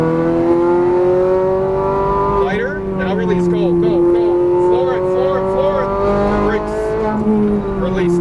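A Ferrari F430 Scuderia on a racetrack in Las Vegas roars loud and close, its engine note holding high and then dipping and rising again as the throttle changes. An instructor's voice talks over the engine throughout.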